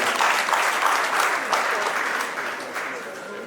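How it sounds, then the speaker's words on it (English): Audience applause fills a graduation ceremony hall, a dense, steady wash of clapping from a large crowd that fades slightly toward the end. "I'll put our hands together once again"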